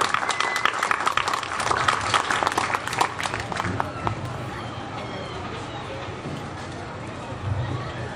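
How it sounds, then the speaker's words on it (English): A crowd applauding at a parish fair opening ceremony, with brisk clapping that tapers off midway, leaving a lower murmur of background voices. "So please give these people a big round of applause because without them, this wouldn't happen."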